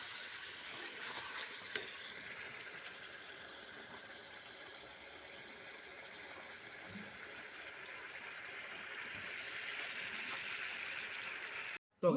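Pieces of meat sauté in a pan, giving a steady, close sizzling hiss that runs unbroken, with no talking.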